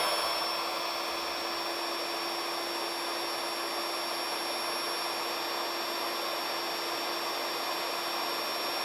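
Built-in electric pump of a 20-inch blow-up air mattress with a quilted topper runs while inflating, a steady loud whirring drone held evenly throughout with no pauses.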